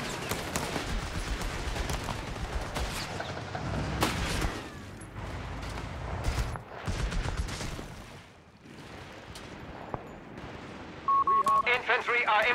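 Dense gunfire and explosions in a Company of Heroes 3 coastal 4v4 battle, rattling and booming continuously under game voice callouts, with a short electronic beeping near the end.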